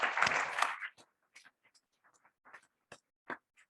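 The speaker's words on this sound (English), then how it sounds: "we can give them a round of applause" A short burst of applause at the ICRA 2022 autonomous racing closing session, loud for about a second, then fading into scattered faint taps and claps.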